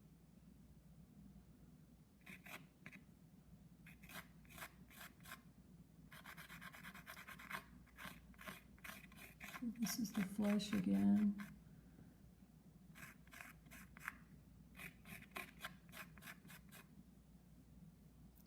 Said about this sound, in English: You can hear the scratchiness of the paper.